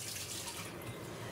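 Raw chicken is washed under a running kitchen tap, giving a steady close splash of water with no speech.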